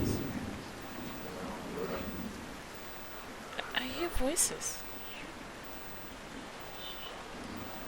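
Rain and thunder in the fantasy role-playing game Pillars of Eternity make a steady wash of rainfall, with a low thunder rumble rising briefly midway. A voice speaks quietly over the weather.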